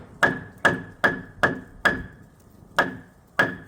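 Seven sharp hammer blows strike wood while rebuilding a side porch, at a steady rhythm, each a crisp ringing knock with a brief pause before the last two.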